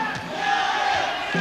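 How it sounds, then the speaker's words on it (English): Home fans applauding and cheering in an arena during a 1998-99 British Basketball League game, a broad, steady crowd roar at moderate level. "getting a good round of applause from the home fans"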